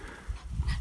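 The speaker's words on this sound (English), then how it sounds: "Dog saying hello." A dog on a Pembrokeshire pig farm gives a faint, brief snuffly whimper or pant, close but quiet against low outdoor background noise.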